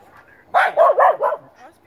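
A neighbour's dog, loose in a yard, gives a quick burst of four loud barks close by, with a voice faintly around it.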